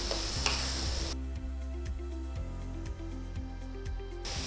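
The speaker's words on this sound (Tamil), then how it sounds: "இந்த நெய்லேயும் எண்ணெயிலையும் நம்ம அரைச்சி அந்த விழுது இருக்கு இல்லையா, அது வதங்கணும்" A ground spice paste sautés in ghee and sesame oil, giving a soft sizzle under rhythmic scraping strokes of a spoon against the pan, close and steady.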